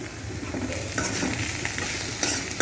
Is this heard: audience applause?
no